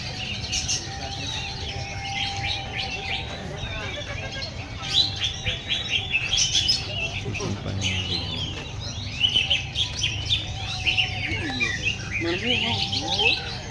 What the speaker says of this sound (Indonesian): penampakan cucak hijau di CBD Enterprise Ciledug.